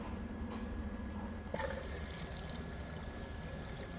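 Steady rushing of water flowing into an LG washing machine, a continuous hiss with a faint mechanical hum, growing slightly fuller partway through.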